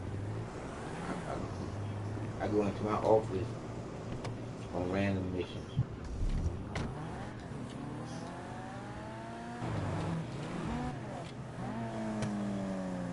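A car engine in a video game revs and rises in pitch in several accelerating sweeps, heard beneath someone talking through much of the stretch.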